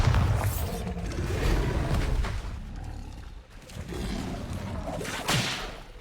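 A Bombarda blasting spell in a Hogwarts video game lets out a loud whooshing whip-crack and roaring burst amid dense game action noise, with a sharp swish near the end.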